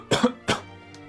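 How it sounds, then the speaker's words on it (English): A character in the Final Fantasy 3 video game coughs, a quick pair of rough coughs followed by a fainter third, clear and close with a low background hum. "Oh, Doga's coughing."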